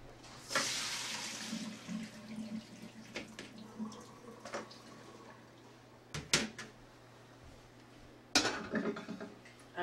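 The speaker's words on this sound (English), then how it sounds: "my pasta is cooked. So I'm going to drain it." Water runs into a kitchen sink as cooked pasta is drained, a soft splashing rush broken by several sharp clatters and knocks, fairly quiet overall.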